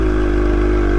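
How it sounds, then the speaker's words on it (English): Two-stroke Suzuki X-90 motorcycle engine lugging at low revs, a steady, loud, throaty drone with harmonic buzz held continuously and close up. "It's amazing that a two-stroke can have that kind of bottom end grunt like it does."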